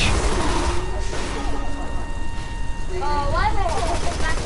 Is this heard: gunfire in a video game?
yes